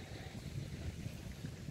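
Strong wind blows at Beolcheonpo beach, a steady low rumble of gusts buffeting the microphone, faint and continuous without any voices.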